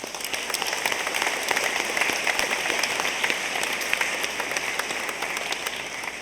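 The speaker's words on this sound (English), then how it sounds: "a big round of applause for our Wakefield community just being here tonight." An audience at an 8th grade moving-on ceremony gives the Wakefield community a steady round of applause, dense continuous clapping filling the room without voices over it.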